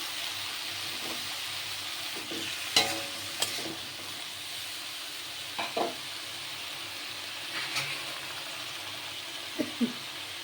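A soft continuous sizzle of pointed gourd frying in a pan, with occasional scraping stirs and light clinks at irregular intervals.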